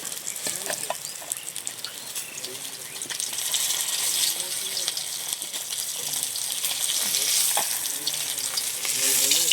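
River fish fry in a little oil while being turned and lifted out, a continuous bubbling sizzle that grows fuller midway, punctuated by light scrapes and spatula clatter, with someone talking over it.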